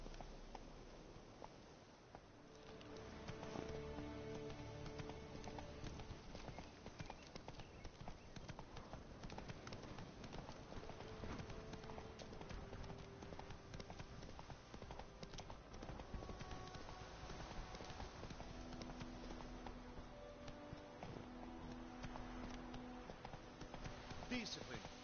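Roach, the horse in The Witcher 3, clip-clopping steadily at a walk for the whole stretch, hooves fairly close, mixed with game music and a voice talking over it.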